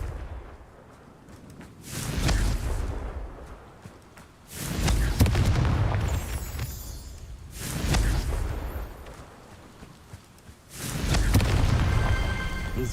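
Four heavy booming blasts of the Confringo fire spell in Hogwarts Legacy, spaced a few seconds apart with deep rumbling tails and faint magical shimmer between them.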